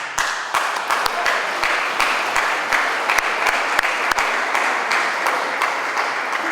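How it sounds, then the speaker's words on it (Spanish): Audience applause at a ceremony honouring a typographer fills the room steadily for several seconds, with individual sharp claps standing out near the microphone. "Un fuerte aplauso, por favor."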